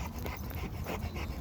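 Dog panting at a dog park, rapid rhythmic breaths close by, fairly quiet, with no talk.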